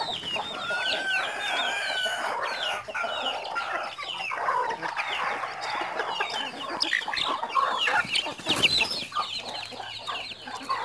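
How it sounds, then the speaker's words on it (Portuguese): Chickens and chicks cluck steadily while eating at feeding time on a farm, with busy overlapping clucks and higher chick peeps close by and no talk. "Tá aí as galinhas tudo comendo agora."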